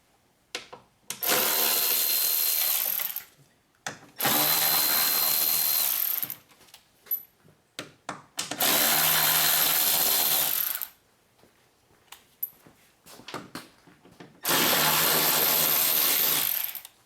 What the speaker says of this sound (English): So I will remove these bolts now so we can get access to the horn.